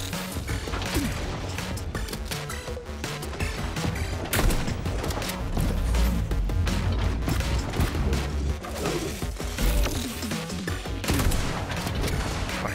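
Dense, constant weapon fire in the video game Atomic Heart, with mortar blasts and rapid gunfire. Booms and crashes pile up over one another without pause.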